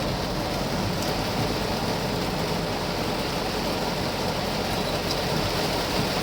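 A heavy downpour at Kochukhet in Mirpur makes a constant, broad hiss of rain hitting surfaces, even and loud throughout with no voices.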